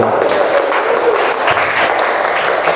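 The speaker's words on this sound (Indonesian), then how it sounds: "Kita kasih tepuk tangan yang meriah" A classroom of students gives a lively round of applause during a teaching practice lesson, close, dense and continuous clapping for nearly three seconds with a faint voice underneath.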